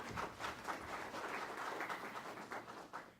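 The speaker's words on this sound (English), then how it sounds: "Give him a round of applause." Modest, fairly distant applause from a small gathering honouring the evening's musician, a continuous soft patter of many hands lasting a few seconds.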